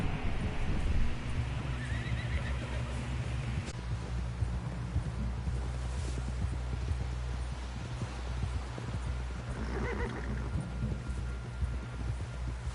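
A horse in the video game Red Dead Redemption 2 galloping with steady clip-clop hoofbeats, punctuated by neighing and whinnying, set over a low rumbling outdoor ambience at moderate level.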